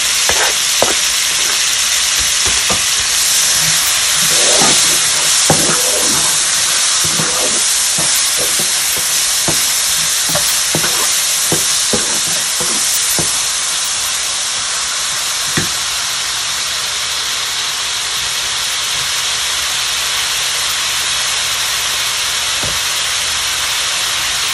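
Chopped tomatoes and green chillies frying in a pan for a dal chana and karela salan, a loud, steady sizzle and hiss with intermittent stirring scrapes, close and continuous throughout.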